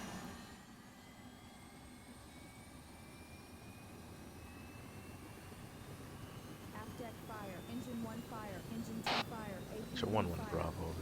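Helicopter engine spooling up in ARMA 3, a steady whine and hum that gradually rises in pitch and loudness over about eleven seconds, with voices talking over it toward the end.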